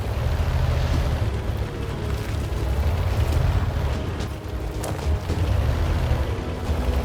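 An artillery shell explodes nearby in the tank game World of Tanks, a loud, sustained rumbling boom with a deep roar that persists throughout and no speech over it.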